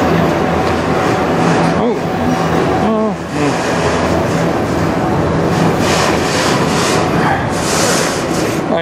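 A CN freight train rolls past at close range in Sarnia, Ontario, a loud continuous rumble of wheels and cars with brief squealing tones and rhythmic rail clatter throughout.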